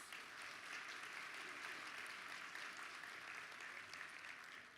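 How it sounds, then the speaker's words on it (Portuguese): Applause from an audience at a Brazilian literary festival, a steady, evenly spread crowd clapping heard from some distance and fairly quiet, continuing without pause. "Uma salva de palmas."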